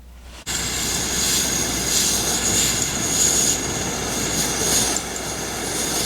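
Camping stove burner preheating inside a tent on a winter night, a loud steady roaring hiss starting abruptly after a brief quiet moment and holding close and constant, with a slight drop in level near the end.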